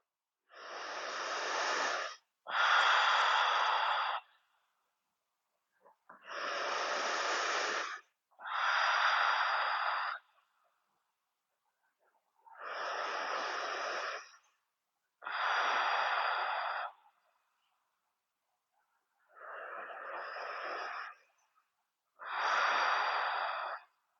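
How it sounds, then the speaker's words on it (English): Slow, deep yoga breathing during a gentle flow practice: eight long, even breaths in pairs of inhale and exhale, each a few seconds of close, airy rushing separated by quiet pauses. "And simply breathe."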